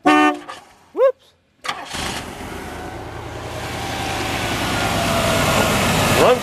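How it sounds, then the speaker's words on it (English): A rusty old Cadillac with 150,000 miles cranks and catches, settling into a loud, rough, rising engine rumble after a brief burst of voice and honk-like tones at the start. "Crank this crank her up. Crank her up."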